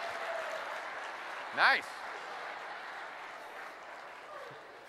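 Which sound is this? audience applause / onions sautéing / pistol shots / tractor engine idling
audience applause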